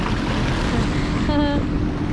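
A jet ski runs across the sea off Dubai, throwing spray behind it. Wind buffets the microphone over rushing water, and a short rising engine whine comes through midway.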